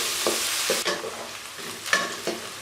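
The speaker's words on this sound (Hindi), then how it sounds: "अब प्याज को फ्राई कर लेंगे तकरीबन 2 से 3 मिनट।" Finely chopped onion, one large one, fries in oil until light brown, hissing and sizzling close by as a spoon stirs it in a few repeated scraping strokes.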